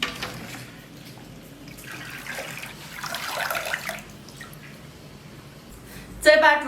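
Shredded radish and potato are swished and rinsed in water in a basin, a soft sloshing and dripping that rises and falls, ending with a sharper clatter, under faint background talk.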